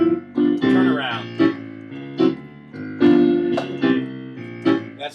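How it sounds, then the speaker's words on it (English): A piano plays a short ragtime turnaround, a few bright chord stabs and quick melodic runs at the end of a phrase, close and clear with no voice. "That's the sound of a turnaround."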